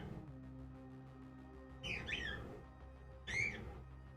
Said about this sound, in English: A little hard to hear it with the birds going off